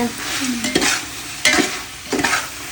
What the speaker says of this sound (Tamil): 1 கிலோ மட்டன் சேர்த்துட்டு நல்லா கிளறலாம்.